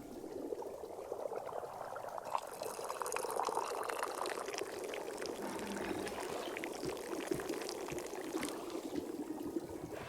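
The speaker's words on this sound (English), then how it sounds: "Pour a nice cup of high caffeinated tea." Tea streams steadily into a cup in the video game Wanderstop, a soft continuous liquid pour lasting several seconds at moderate volume with no talking.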